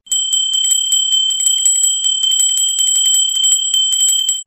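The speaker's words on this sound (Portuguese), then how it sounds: "O sininho tocou, é nova postagem" A YouTube notification bell sound effect rings out in a rapid, bright metallic chime, repeating continuously and loudly for several seconds with no talking.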